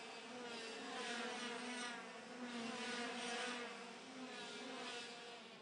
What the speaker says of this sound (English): We love to watch the IAME X30 engines running on track all the time